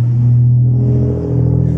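A car engine hums and rumbles steadily as the vehicle draws near up a driveway, loud and close, with a slight rise in pitch and no talking.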